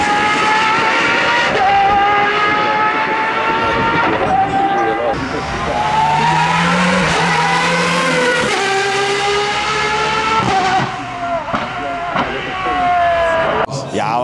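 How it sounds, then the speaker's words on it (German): An Aston Martin Valkyrie hypercar engine screams loud and close at very high revs, its pitch climbing and dropping through gear changes and throttle lifts, with a voice talking over parts of it. "Aston Martin Valkyrie. Werdet ihr kennen, wir blenden mal ein Video ein von dem Sound."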